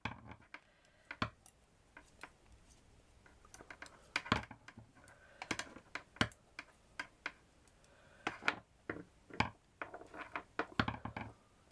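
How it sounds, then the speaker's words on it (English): Knitting needles clack together steadily while a doll's hat is knitted in wool, giving close, irregular bursts of small sharp clicks with short pauses between them. "I can't stop the needles clacking"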